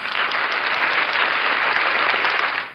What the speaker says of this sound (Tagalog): isang palakpak para kay Lord